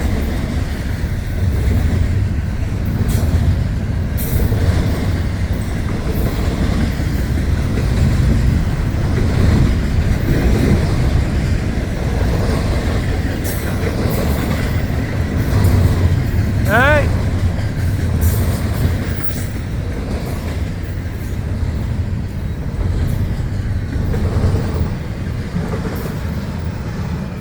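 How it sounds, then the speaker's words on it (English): A long Florida East Coast Railway freight train rumbles past nearby in Saint Augustine with steady rolling noise and rail clatter, a brief horn-like tone in the middle, and a voice speaking briefly. "Train meet. Florida East Coast Railway"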